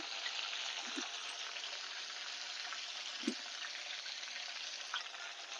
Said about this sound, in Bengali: এবার মাংস ভেজে নেওয়ার পর যে তেলটা রয়েছে ওই তেলে আমি দিয়ে দেবো অল্প গোটা গরম মশলা